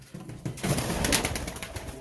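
Royal teddy pigeons, including a young chick, coo close by in a soft, continuous murmur, with a few light rustles and flutters mixed in.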